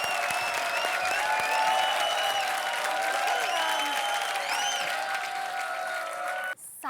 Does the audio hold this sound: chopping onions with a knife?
no